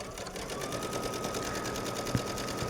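A sewing machine stitches a folded chiffon sleeve edge with a steady, even whir of rapid needle strokes, close and alone without talk.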